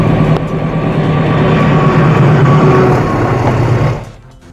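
A train rolls across a steel-pillared railway bridge 260 feet high over a forest in Indonesia, a loud steady rumble of wheels and cars that holds for about four seconds, then fades away near the end.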